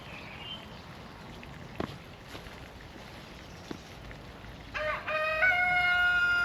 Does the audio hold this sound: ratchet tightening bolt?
no